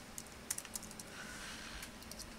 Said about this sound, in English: And we'll just start typing.